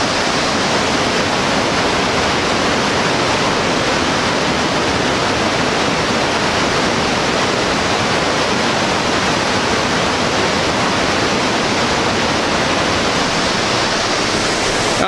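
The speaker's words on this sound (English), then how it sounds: "So here's the falls down here." High Falls waterfall at DuPont State Forest pours in a loud, steady roar of rushing water, broad and unbroken throughout with no other sounds.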